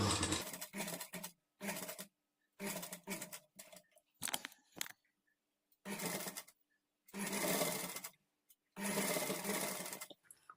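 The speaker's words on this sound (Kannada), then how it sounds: "ಈ ಕ್ಲಾತನ್ನು ನಾವು ಈ ಥರ ತಿರುಗಿಸ್ಕೊಂಡು ಸ್ಟಿಚ್ ಮಾಡಿಕೊಳ್ಬೇಕು" A sewing machine with a normal presser foot stitches invisible-thread piping onto cloth, running in short, fairly loud mechanical bursts separated by brief pauses as the fabric is turned, with no talking.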